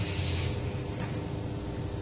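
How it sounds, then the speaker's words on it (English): Hairspray sprays in a short hissing burst during a hair-styling session, loud and close for about half a second, then fades into quiet room noise. "hairspray"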